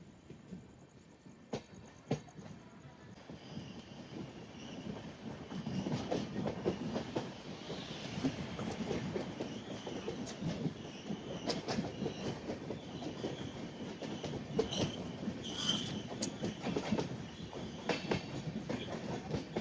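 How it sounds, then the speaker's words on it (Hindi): A train departs from Dadar terminal at night, its wheels clattering steadily over rail joints with repeated sharp clicks and a faint high squeal, heard from nearby on a moving train. "दादर टर्मिनल से कोई सी ट्रेन डिपार्ट हो रही है।"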